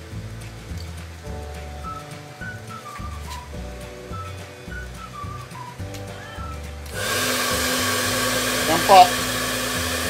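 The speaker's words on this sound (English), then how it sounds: "isasama po natin itong hair dryer" A hair dryer powered by a DIY inverter switches on partway through and blows with a steady, loud whoosh; a voice speaks briefly beforehand.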